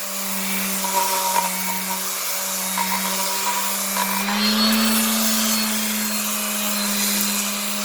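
A power sander grinds rust off a vintage railplate, holding one steady droning pitch from start to finish, with scraping grit and small shifts in pressure over the motor's constant whine.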